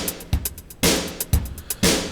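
Sequenced rhythm part built from Kurzweil K2000 synth sounds: sharp percussive hits and a steady ticking pattern in a tight, repeating groove, loud and close with no talking.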